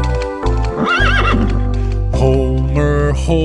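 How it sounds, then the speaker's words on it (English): Over a cheerful children's song accompaniment, a horse whinnies loudly with a quavering, rising-and-falling cry near the start, followed by clip-clop hoofbeats blending with the music. "Homer horse"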